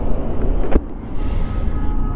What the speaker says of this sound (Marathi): काय बाबा कसली खतरनाक ट्रॅफिक आहे रे